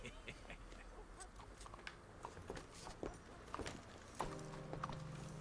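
Horse hooves clip-clop faintly and steadily in Red Dead Redemption 2, a quiet run of light taps with a soft tonal hum joining near the end.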